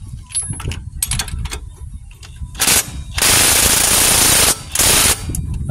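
Impact wrench set to power level 2 loosening a front shock absorber nut on a 2010 Nissan Cube, loud rattling bursts, one short then one long sustained burst and a final burst, close up in a garage.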